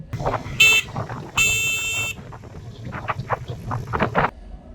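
Two buzzy, nasal horn beeps from a Honda CB350RS motorcycle sound close by, one short and one longer, over a low engine idle with faint clicks.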